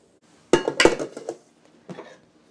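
Metal attachment clanking as a paddle is fitted onto a stand cake mixer: a quick cluster of sharp metallic clinks and knocks, then a softer clink a moment later, close and alone.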